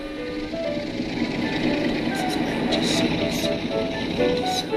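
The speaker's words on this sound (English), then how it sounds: "A 37 with a sand train and a passing sprinter." A Class 37 locomotive hauling a sand train rumbles past nearby, a loud continuous rolling roar with a droning engine and faint squeals and clatter over the rails.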